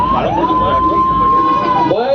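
An ambulance siren wails, climbs and holds a steady high tone, then sweeps downward, loud and close, with a faint voice underneath, amid pilgrims walking to Ambaji.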